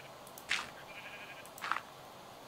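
Minecraft sheep give two short bleats about a second apart, clear against a faint quiet background in the game.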